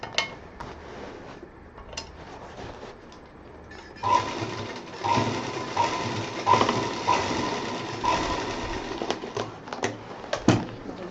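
A sewing machine stitches down the zipper section of a homemade travel bag, its steady mechanical whirring picking up after a quieter stretch and running in close, uneven bursts with small clicks.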